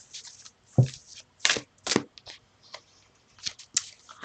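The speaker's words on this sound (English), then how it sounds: "I'm going to shuffle one more time" Tarot cards being shuffled during a live reading, heard as a series of short, crisp riffling and slapping bursts at an irregular pace, fairly close and alone without talk.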